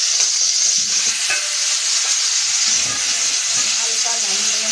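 Green mango frying in a pan with a mustard-seed tempering, a steady loud hiss and sizzle throughout with faint clinks of stirring underneath.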